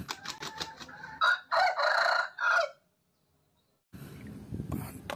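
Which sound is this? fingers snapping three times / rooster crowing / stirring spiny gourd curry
rooster crowing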